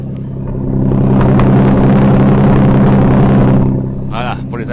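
An Aston Martin DB11 engine and exhaust rev loudly and up close, a deep harmonic roar swelling and holding for a few seconds before easing back, with a voice speaking briefly at the end.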